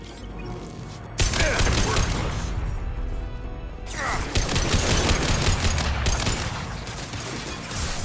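Rifle gunfire in the Mass Effect 2 video game, loud sustained bursts of rapid shots that break off briefly midway and then resume, with mechanical clatter and impacts throughout.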